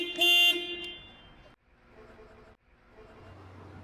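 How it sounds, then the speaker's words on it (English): A forklift horn honks once, a loud, bright tone lasting about half a second at the start, followed by quieter workshop noise and low rumble. "Okay, honk your horn."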